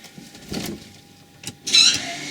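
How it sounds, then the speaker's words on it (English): An electronic parking brake motor on a car with the ignition on whirs briefly, a short near motor buzz swelling near the end, with fainter mechanical clicks before it. "lock your parking brake if it's not already locked"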